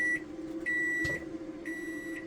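A microwave oven run from a Bluetti AC240 power station while popping popcorn hums steadily, then gives three clear electronic beeps spaced about a second apart as its timer ends, with no talking.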